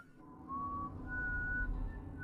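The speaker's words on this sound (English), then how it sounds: "He was whistling a strange rhythmic music" Strange, rhythmic whistled tune with sustained notes that shift pitch, close and clear, alone without talk over a low background rumble.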